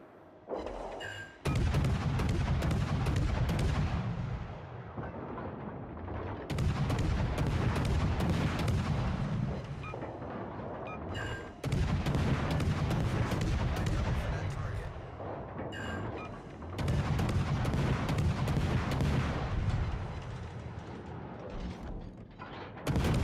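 Naval guns fire in a battleship video game: heavy, booming cannon salvos repeat about every five seconds, each a loud, sustained roar that rolls on until the next volley.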